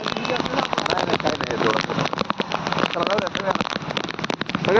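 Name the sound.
heavy rain pouring on a village lane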